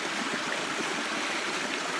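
A natural brook flows steadily, its continuous rushing and gurgling water filling the whole stretch evenly and close by, with no voices.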